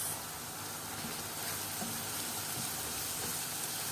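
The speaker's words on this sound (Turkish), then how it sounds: "Biraz da bu şekilde kavuruyoruz." Washed rice and onions sizzle steadily in a hot pan while being sautéed for stuffed grape leaves, giving a continuous, even crackling hiss with faint stirring scrapes and no voices.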